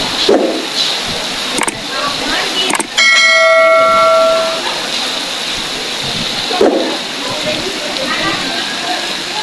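Heavy rain pours down in a dense, steady hiss throughout, with a brief ringing chime partway through and a few sharp knocks.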